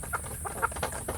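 Soft, close clucking from free-range village hens kept with a rooster, a few short irregular clucks over about a second against faint background noise.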